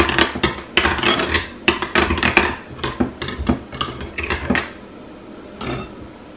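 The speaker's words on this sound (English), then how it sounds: "And you just mix everything together." A utensil mixes seasoned food with salt and pepper in a dish, making a string of clinking and scraping strokes in uneven bursts that thin out toward the end, close up and without speech.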